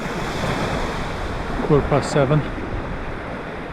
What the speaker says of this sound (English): some biggest swells are just pushing across the beach